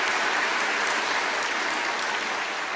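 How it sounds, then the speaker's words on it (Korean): A church congregation gives the teachers a big round of applause, a dense, even roar of many hands clapping at once, sustained and fairly loud throughout with no talking. "우리 교사분들을 위해서 큰 박수로 격려해 주시기 바랍니다"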